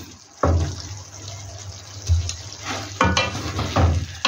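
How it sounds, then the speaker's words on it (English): Coconut fish curry (samaki wa nazi) simmering in a pot, a steady close sizzle and bubble broken by several louder scraping bursts of stirring, with no voices. "let it simmer a bit"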